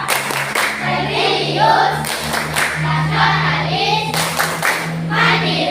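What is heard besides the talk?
rhythmic classroom clapping game, Tepuk PPK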